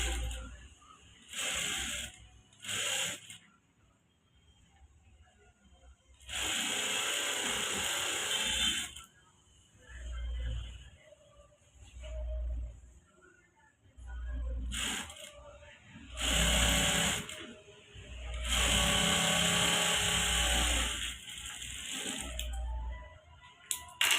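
A sewing machine runs in repeated short bursts while stitching a blouse along a marked line, with a rhythmic mechanical whir and pauses where someone talks between runs.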